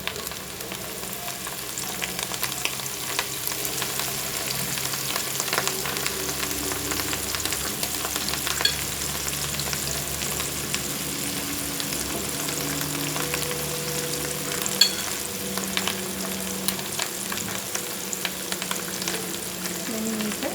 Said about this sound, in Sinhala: දැන් ඉතින් අපි මේක ගැඹුරු තෙලේ බැද ගන්නයි යන්නේ.